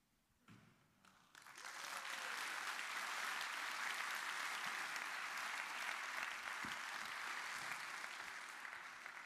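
Applause follows a travel conference opening keynote, starting with a few scattered claps and quickly building into sustained, even clapping from a large audience that holds steady and begins to fade at the end.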